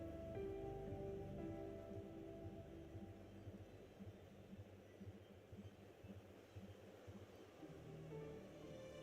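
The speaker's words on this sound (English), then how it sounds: "This rain, it's finally happening." Steady rain falls in the video game Wuthering Waves, a continuous broadband hiss that carries through the whole stretch over low, sustained ambient tones, with no talking.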